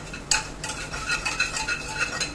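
Onions and spices being stirred in a pan: close, continuous scraping and clinking of a utensil against the pan over a faint sizzle, with no talk.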